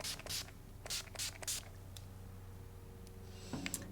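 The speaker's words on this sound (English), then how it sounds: "I'm actually gonna use the Skindinavia setting spray" Skindinavia makeup setting spray misted in several short, soft hissing bursts, a few close puffs in quick pairs with quiet pauses between.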